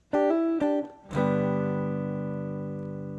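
An electric guitar strikes two quick chords, then a third chord with a note hammered on, left ringing and slowly fading.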